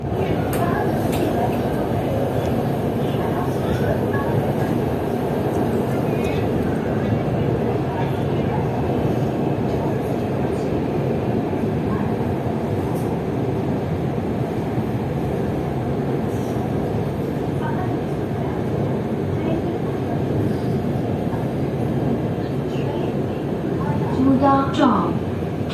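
Lahore's Orange Line metro train rolling along, heard from inside as a continuous loud rumble and rail roar that holds steady throughout, with faint speech in the background.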